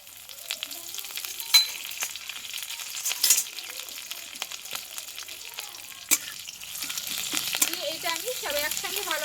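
Black mustard seeds and curry leaves frying in oil crackle and pop in a continuous soft sizzle, with occasional sharper spits and stirring clinks, and a voice speaking faintly underneath.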